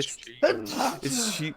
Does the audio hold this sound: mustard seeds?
no